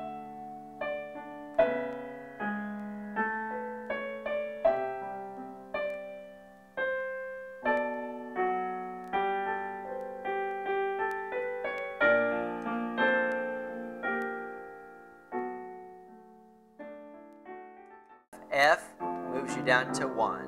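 Solo piano plays arpeggiated chords, with clear separate notes in a steady rolling rhythm that sound close and moderately loud. A brief noisy burst comes near the end.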